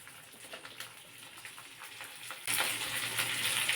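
Chopped capsicum and onion hit hot oil for chilli chicken with ginger and garlic, a soft crackle that jumps into a louder, steady broadband sizzle partway through.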